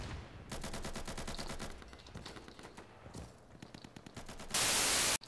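Gunfire in the online shooter Insurgency: rapid automatic bursts rattle in dense rhythmic volleys, some near and some farther off, with a sudden burst of loud static near the end and no speech.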